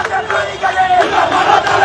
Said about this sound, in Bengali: ওনার সমর্থকেরা রাস্তা অবরোধ করে বিক্ষোভ করতেছে। দেখেছেন স্লোগান দিচ্ছে